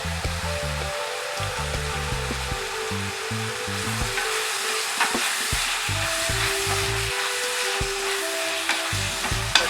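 Ginger and garlic sauté in a hot pan of tomato and onion for a squid gravy, a steady loud sizzle throughout with scraping spatula strokes in uneven rhythm.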